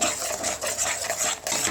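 A spoon stirs a paneer gravy after milk goes in, giving a short burst of close, soft scraping and sloshing against the pan.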